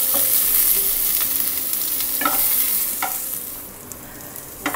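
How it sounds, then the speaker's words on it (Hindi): Onions, green chillies and vegetables stir-fried in a pan over a medium-low flame for poha, with a steady close sizzle and occasional scraping stir strokes, no talk. "इसे हमें मीडियम टू लो फ्लेम पे 1 मिनट के लिए भून लेना है।"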